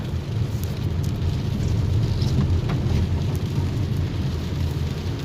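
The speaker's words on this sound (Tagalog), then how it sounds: "lumalakas na yung ulan mga tol" Rain falls steadily on a city street in Balibago, Angeles City, Pampanga, during a typhoon, a dense continuous patter with low rumble and occasional faint passing-traffic sounds, with no talking.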